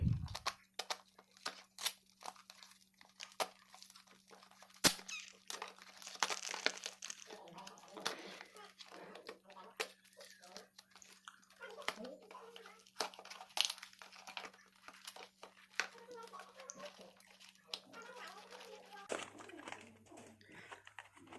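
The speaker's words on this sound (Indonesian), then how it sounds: "ini armatur yang baru akan saya unboxing dulu" Packaging of a new Modern SIM-100B grinder armature crinkles and rustles up close as it is unboxed, with scattered crackles and tearing over a faint steady hum.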